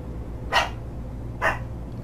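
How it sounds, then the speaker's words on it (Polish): A dog barks twice, a pair of short sharp barks about a second apart, moderately near over a low steady background hum. "Się pies odezwał"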